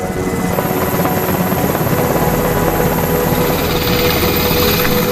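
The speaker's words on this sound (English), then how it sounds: "soon board an HS-60 Seahawk helicopter and leave Nimitz" A Seahawk helicopter drones loudly and continuously overhead, its rotor chop and turbine whine steady throughout with no voices.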